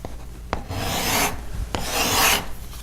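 A metal file rasps along the edge of a cabinet scraper to raise a burr, in two long, loud back-and-forth strokes. A sharp click marks the start of each stroke, and no one speaks.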